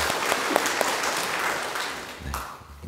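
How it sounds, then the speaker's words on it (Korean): A Catholic church congregation applauds briefly during a Lenten Sunday homily, a dense crowd clapping that starts strong and gradually fades over a few seconds. "박수 한번 쳐드리겠습니다."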